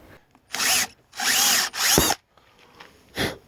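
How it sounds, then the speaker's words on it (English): Cordless drill boring a hole in a boat's rudder near the transom, in three close bursts of whining spin-up with pauses between, then a shorter fourth burst. "I can sight along the back edge of the transom there and get the drill pretty much in line."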